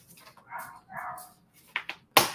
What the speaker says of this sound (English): And we got dogs barking and cats meow or sleeping.